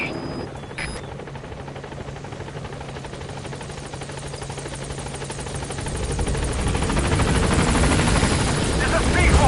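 In the video game Metal Gear Solid V, the B-Quad helicopter arrives at a landing zone. Its rotor drone and whine hold steady, then grow louder and denser as it approaches.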